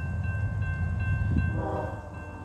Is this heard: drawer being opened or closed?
no